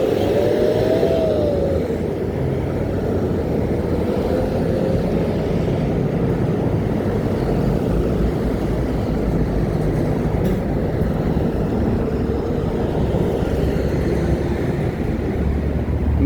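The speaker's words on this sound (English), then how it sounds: "I'm on the main road. I know you can hear the cars loud." Steady loud roar of cars passing on a busy main road, continuous broadband traffic noise close by with no talk over it.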